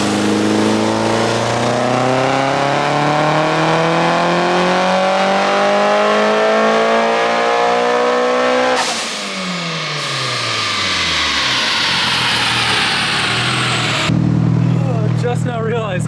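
A Mitsubishi Evo 5 fitted with a new turbo, its spark plugs gapped tighter to cure a misfire, revs hard on a dyno; the engine climbs in a long loud pull, cuts off, then winds down, with voices talking over it.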